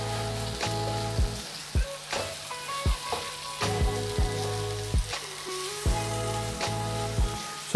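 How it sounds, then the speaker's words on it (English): Prawns and cooked potato sizzle steadily in a hot pan, with a spoon scraping and stirring through them in repeated strokes, close and fairly loud, with no talking. "And now I'll add in the prawns. And let's give it a mix."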